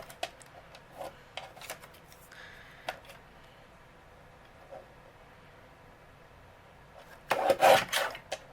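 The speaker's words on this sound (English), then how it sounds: "use my paper trimmer. And I'm going to just trim a thin strip here" A paper trimmer slices a thin strip of cardstock: quiet scattered taps and handling, then a short, louder rasping slide of the blade near the end.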